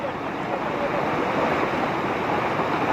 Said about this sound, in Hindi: सड़क के ऊपर से पानी इतनी तेज बह रहा है कि पूरी की पूरी गाड़ी बहती हुई नजर आ रही है।